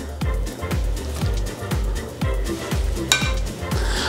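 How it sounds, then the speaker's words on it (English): A spoon scrapes soft flesh out of baked potatoes into a glass bowl, with about eight repeated scooping strokes and clinks in a steady rhythm, close and fairly loud. "we're gonna spoon out all of the soft potato from our baked potatoes."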